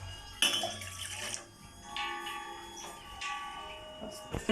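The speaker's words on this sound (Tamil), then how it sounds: "இப்போ நம்ம இதில் ரெண்டு டம்ளர் தண்ணி ஊற்றிடுறோம்" Two small tumblers of water poured into a pot on a stove for coriander-ginger tea, a splashing pour with clinks of metal vessels, close and moderately loud, with no talking.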